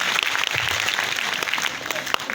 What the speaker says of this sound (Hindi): एक बार जोरदार ताली सर के लिए